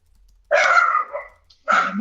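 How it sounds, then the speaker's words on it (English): A dog barks twice, close and fairly loud, the first bark drawn out with a short trailing yip, then a second sharp bark after a brief pause; no talking. "And my dog's going to bark."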